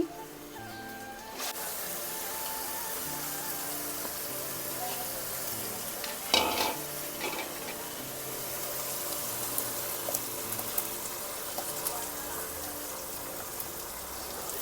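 Chicken sizzles in a pan as ground masala paste is poured in, a steady soft frying hiss with a brief louder splash of sputtering partway through, no talk.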